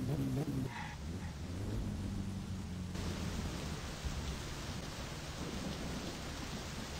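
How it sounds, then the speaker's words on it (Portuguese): Steady rain in the video game My Summer Car hisses in a constant wash of noise, with a low rumble underneath and no pauses throughout. "A chuva não vai parar"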